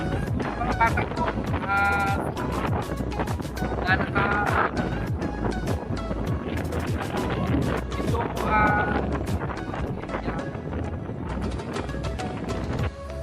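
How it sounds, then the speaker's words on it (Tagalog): Strong wind on Batbatan Island buffets the microphone in loud, rumbling gusts throughout, with someone talking beneath the roar and occasional rattling or clattering sounds mixed in. "ganyan kalakas yung hangin, halos hindi ko na madinig yung aking pagsasalita sa video"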